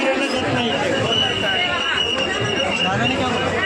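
A thick, continuous babble of many voices rises from the crowded Dadar flower market street, loud and close, with no single voice standing out.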